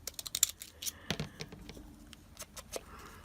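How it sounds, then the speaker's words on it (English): Mini pinking shears cut paper in a quiet indoor setting, producing a series of small crisp snips and rustles, close by and faint. "And I love using my mini pinking shears."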